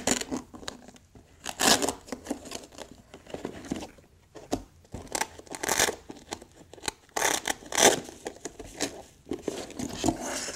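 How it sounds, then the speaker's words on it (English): Tape holding the cover on a fiber optic cable reel is cut and pulled, giving close, uneven bursts of snipping and tearing scrapes with short pauses between them. "cut the tape that holds the cover on the reel and then remove it"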